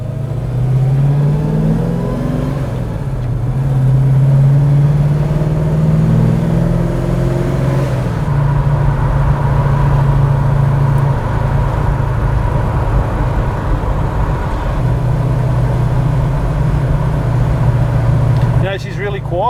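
Ford XB Falcon GS Hardtop idling and cruising with a smooth, fairly quiet engine drone that rises and falls steadily over road noise from inside the cabin.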